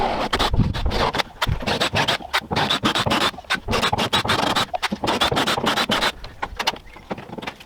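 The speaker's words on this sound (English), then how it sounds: "Now it's time for tapping." A tap cuts threads into drilled holes in a fuel tank, giving close, loud, rhythmic scratching and scraping bursts with short pauses between turns.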